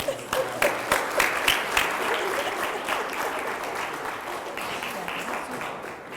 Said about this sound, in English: Can we have another round of applause for our